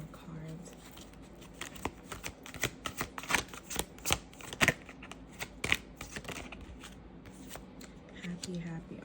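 Cards being shuffled give quick riffling bursts and slaps in a loose rhythm, fairly close but quiet, while a person talks softly alongside.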